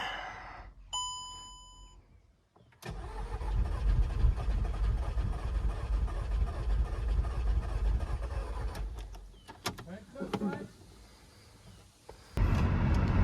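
A Seat Altea FSi with water recently cleared from its cylinders, new coils and fresh fuel cranks without starting: a few short beeps, then a long continuous churning run of about nine seconds that stops, followed by another attempt at the end.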